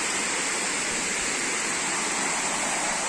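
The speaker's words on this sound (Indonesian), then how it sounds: "Itu air dari sini terus turun ke bawah sana. Terus menjadi air terjun." Water from a forest stream tumbles over a waterfall in Kabuh forest, Jombang, giving a steady, dense broadband rush that holds without pause, close and unbroken, with no voices.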